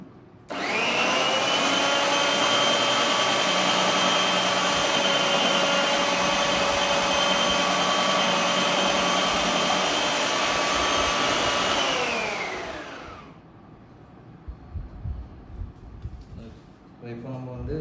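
A Preethi Zodiac Cosmo mixer grinder with a cube-cutting attachment dicing potato, a loud steady high motor whir for about twelve seconds that winds down and stops, followed by faint handling clicks.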